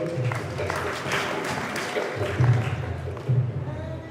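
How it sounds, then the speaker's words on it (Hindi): Sustained applause from a seated audience welcomes a student being honoured at a community award ceremony in Churu, a steady broadband clatter of hands with a few louder swells and faint voices underneath. "जोरदार ताली से स्वागत"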